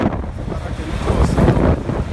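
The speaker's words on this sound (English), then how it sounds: "Very windy, guys" Strong wind roars across the microphone on a street in Cape Town, South Africa, in a constant low rumble, swelling slightly in the middle, with no clear speech.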